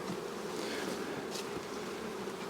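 A dense, steady hum of many honeybees buzzing close by, continuous and unbroken throughout, with no voices.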